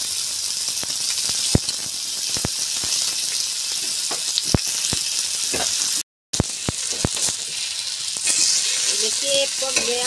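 Fish pieces frying in oil in a pan after being flipped, a constant dense sizzle with a few sharp clicks of a utensil against the pan and a brief dropout partway through.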